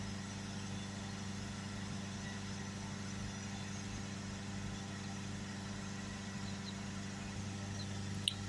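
The 2.0 diesel engine of a Ford Galaxy, held steady at around 3000 RPM, gives a constant, even drone with a low hum, heard from a distance and quiet throughout.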